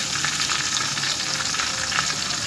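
Green chillies and garlic fry in hot oil in a pan, giving a dense, steady, close sizzle that holds at constant loudness throughout, with no speech.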